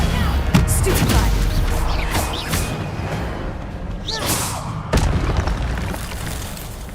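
Magic spell blasts from the Hogwarts Legacy video game, several booming whooshing impacts spaced a second or two apart, with a loud burst near the end over a busy combat backdrop and a voice shouting.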